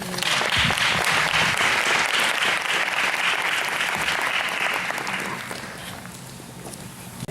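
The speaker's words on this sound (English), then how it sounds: "Who gave me a hand clap?" Audience at a charity ball breaking into sustained, dense applause that stays loud for about five seconds and then tapers off quickly toward the end.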